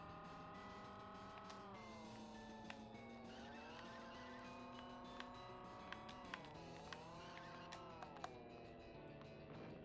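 Engines of racing cars in the PS2 video game ChoroQ drone steadily, pitch rising and falling with acceleration, with occasional tire squeals and small clicks over the continuous game audio.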